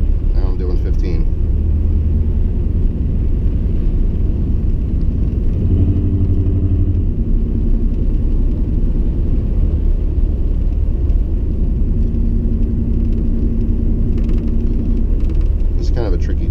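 Truck engine driving slowly on a snowy road, with a low, steady rumble throughout and occasional hums as the gear changes. Someone talks over it.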